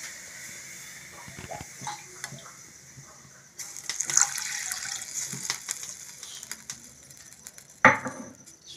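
Water poured from a cup into ground flattened rice (chuda) in a kitchen while making paratha dough, heard as a faint, intermittent splashing trickle with a sharper pour near the end.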